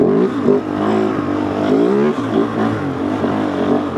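A Kove Rally adventure motorcycle downshifts into first gear, its engine droning loudly and close with shifting pitch and a brief dip partway through, and no voices.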